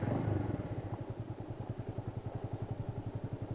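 A motorcycle engine idles nearby, starting with a brief rumble and settling into an even, rapid putter of regular pulses under no talk.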